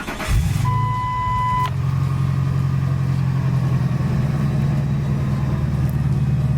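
Ford F250 truck engine cranks briefly with a chime sounding, then catches and settles into a steady, loud low rumbling idle that continues to the end.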